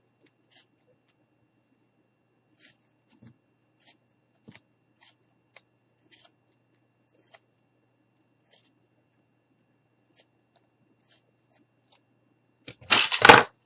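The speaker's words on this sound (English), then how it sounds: "Now, I'm going to go ahead and cut off the extra." Scissors snip off excess material while making a craft gnome, with sparse, quiet isolated clicks and small cuts spread out over the quiet, ending in a louder rustling burst close by.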